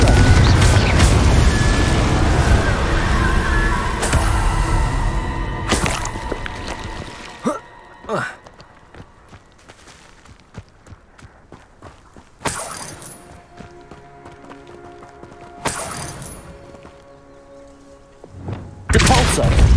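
Incendio and Confringo spell blasts in Hogwarts Legacy hit with a heavy, roaring burst at the start, then separate loud cracking impacts land several seconds apart. Quieter thuds and rumbles fill the gaps between them.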